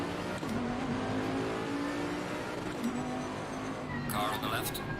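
Race car engines roar steadily at a race start at Brands Hatch in Assetto Corsa Competizione, with a close engine revving and shifting over a dense pack of cars, and a voice talking over the top.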